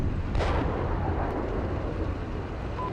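A tank cannon fires once in the Steel Beasts Pro PE combat simulator, a deep booming blast with a rumbling tail that fades across a few seconds.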